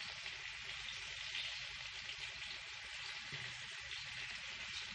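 Fish, a silver carp, frying in a pan, a steady soft sizzle and crackle of hot oil that runs continuously and fairly quietly, with no voices over it.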